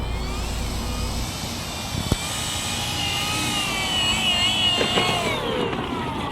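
An Avios Grand Tundra RC model airplane (EPO, 1700 mm span) flies overhead, its electric motor a continuous whine that shifts pitch as it passes, with a short thump partway through.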